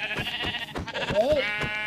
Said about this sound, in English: There's three sheep already.